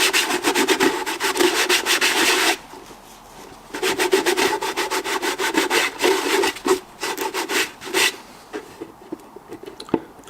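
Fine sandpaper scrapes back and forth over the repaired plastic airbox of a Nitro 200 in rapid, close strokes, loud and rhythmic, with short pauses between runs and no speech.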